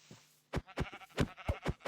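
Sheep bleat in the video game Minecraft, a quick series of five or six short, close bleats in a rapid rhythm, loud and alone after a brief quiet start.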